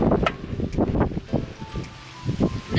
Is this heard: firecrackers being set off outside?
no